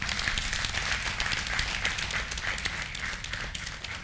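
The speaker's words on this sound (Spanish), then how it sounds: "Oh, dale un aplauso al Señor." A church congregation applauds during a Spanish-language sermon, a steady dense wash of clapping that holds level from start to finish with no break.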